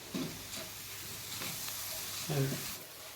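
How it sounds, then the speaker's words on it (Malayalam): Chicken fried rice ingredients, including capsicum, stir-fried over a high flame, giving a steady sizzle with a few louder scrapes and tosses of the spatula in the pan, close and without talk. "ഹൈ ഫ്ലെയിമിൽ വെച്ചിട്ട് തന്നെയാണ് ഞാനിപ്പോൾ മിക്സ് ആക്കുന്നത് കേട്ടോ."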